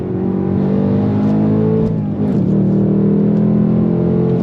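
A 2024 Ford Mustang GT's V8 revs hard toward its 7,500 RPM redline, a loud, steady engine roar whose pitch climbs, dips briefly and climbs again under acceleration.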